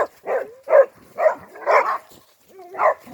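Several dogs bark and yip in short bursts, five or six loud close barks spaced about half a second apart, with a whimpering whine between them.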